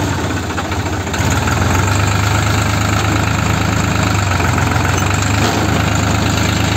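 A New Holland 3630 tractor engine runs close by, a loud, steady diesel chug and knocking idle that rises slightly after the first second and then holds even, with no voices.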